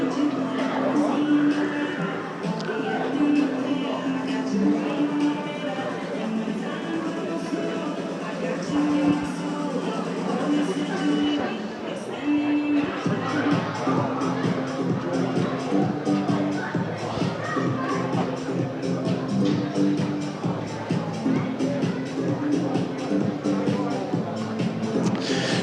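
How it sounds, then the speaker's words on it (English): Crowd gathering before kick-off at an evening under-18 academy football match, Gillingham vs Swindon Town: steady murmur and babble of many voices with shuffling, continuous and fairly loud throughout. "quite a good crowd building beneath us"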